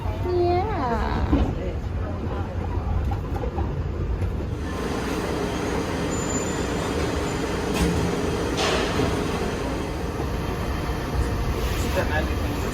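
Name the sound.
riding the Disney monorail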